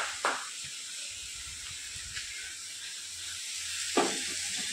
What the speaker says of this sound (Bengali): আর এদিকে পটল কুচিয়ে ভাজা করছি